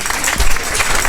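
Brief, dense clapping from an audience at an evening science lecture on X-ray astronomy, greeting a prize winner, loud and close with a few stronger hand hits.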